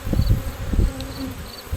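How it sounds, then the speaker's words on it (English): Honey bees fly around an opened hive with small hive beetles present, giving a steady low buzzing drone close by with soft thumps and rustles, and no one speaking. "The bees are starting to fly a lot,"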